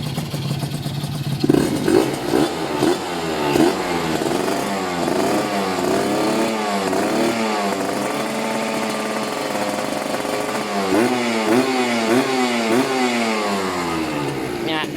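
A Kawasaki ZX150 motorcycle engine is revved repeatedly at close range, rising and falling in pitch through several throttle blips over a steady idle, with someone talking over it.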